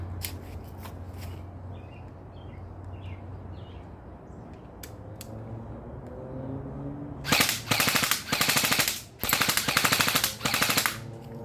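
After a quiet outdoor stretch with a few faint clicks, an airsoft electric gun fires several rapid full-auto bursts at targets about 30 feet away, buzzing and mechanical, close by.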